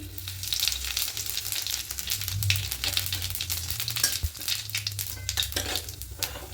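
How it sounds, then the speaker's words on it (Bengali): Whole cumin seeds sizzle in hot white cooking oil, a dense steady crackle and hiss with quick popping bursts, close and continuous throughout, with no talking. "এবার তেলের মধ্যে ফোড়নে নেবো গোটা জিরে ফোড়ন"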